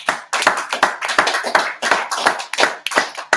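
A congregation at a Sabbath service claps in a loose rhythmic beat, close and loud, each clap sharp and distinct with short gaps between them.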